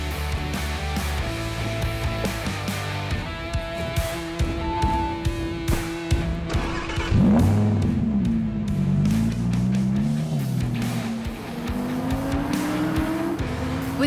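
A 2022 Audi R8 Spyder V10 Performance on a racetrack, its naturally aspirated 5.2-litre V10 revving hard through rising and falling gears, loud and close, with tyre squeal and passing snarls and no talk.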